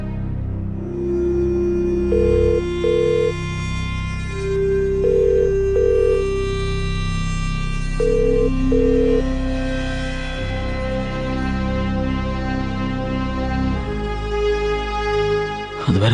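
A phone ringing on an outgoing call, repeated ring tones sounding over steady background music in a Tamil television drama scene, moderately loud and regular.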